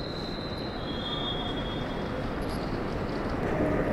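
Steady loud rumble of a passing train with a thin high metallic squeal from the wheels early on, heard up close on a street or platform with no talk over it.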